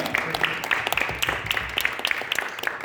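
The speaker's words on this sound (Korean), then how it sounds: "뜨거운 박수 한번 하겠습니다." Audience applause for the guests introduced at a Korean patriotic youth gathering, with steady clapping, a few sharper individual claps standing out, and a faint voice underneath.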